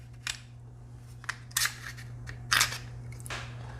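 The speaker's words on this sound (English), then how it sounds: "pull the slide stop out and set it to the side" Small metallic clicks and scrapes, close but quiet, come from pulling the slide stop out of a BUL Armory SAS II pistol during takedown, with brief pauses between them.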